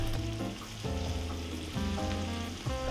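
Salmon fries skin-side down in a hot pan, a steady sizzle running the full length under continuous background music.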